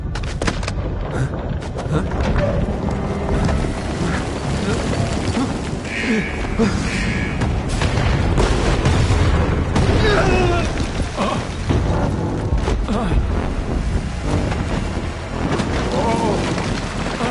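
A facility in TFD collapses in an explosion: loud, continuous booming and rumbling blasts with crashing debris, sustained through the whole stretch, with voices mixed into the chaos.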